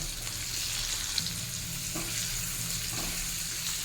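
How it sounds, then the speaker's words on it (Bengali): Cashews and raisins fry over a high flame for raw mango chutney, giving a steady close sizzle with faint scrapes of stirring and no voices. "কিশমিশটা দিয়ে ফ্লেমটা এখন হাই করে দেবো, দিয়ে আরও 1 মিনিট একসঙ্গে সব ভালো করে ভেজে নেব।"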